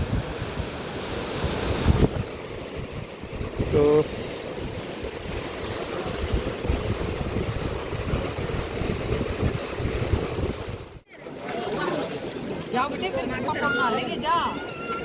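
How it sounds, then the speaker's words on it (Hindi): Bhagirathi river water rushing over rocks near Devprayag, a steady broad roar of flowing water with wind buffeting the microphone, a brief cut near the end, and a person speaking briefly over it. "ये देखो ये भागीरथी नदी है इधर।"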